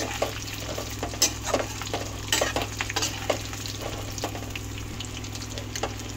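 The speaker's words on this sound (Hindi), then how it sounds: "बस ये खूब सारे आलू इसमें डाल दो कढ़ाई में तेज तेल में।" Plenty of potatoes deep frying in hot oil in a kadai, a steady dense sizzle and bubbling with scattered sharper crackles and pops throughout, fairly close and continuous with no voices.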